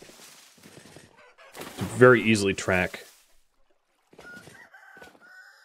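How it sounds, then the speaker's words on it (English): A rooster in the Vintage Story survival game crows loudly and close by in one drawn-out call, with softer clucking around it; someone talks briefly before the crow, and game sounds continue afterward. "Very clearly there's roosters around me"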